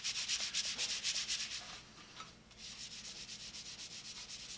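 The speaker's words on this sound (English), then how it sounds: "You can hear the difference just running my hand across the surface." A hand rubs back and forth across a polished handsaw blade, giving a dry, smooth swishing in quick repeated strokes that briefly thin out midway before resuming, close and alone.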